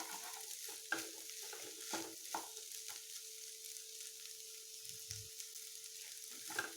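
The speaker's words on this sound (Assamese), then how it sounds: "এনেদৰে সলাই সলাই ইয়াক ভাজি থাকিম" Egg and okra fry in a pan while a spatula stirs them in steady scraping strokes over a continuous soft sizzle, close and clear with no talking.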